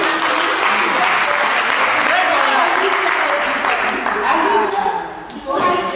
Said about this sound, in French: Je crois qu'on peut aussi l'applaudir comme une vraie chorale